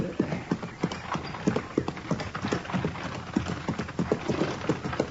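A horse pulls a buggy in an old-time radio western drama, its hooves clip-clopping in a steady, even rhythm close by, with faint creaks between the steps.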